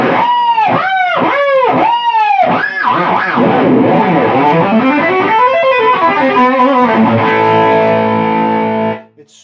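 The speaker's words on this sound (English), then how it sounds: "Now let's go to the fun thing, the distortion channel." An electric guitar plays through the distortion channel of a CAM842 valve amplifier with KT88 tubes and gain at noon: loud, thick overdriven chords and bends ring out, a few chugged hits first, then sustained notes before the sound cuts off.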